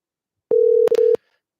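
A telephone line emits steady electronic tones after a call is cut off: one sustained beep, then a quick break and a second beep, loud and close with no talk.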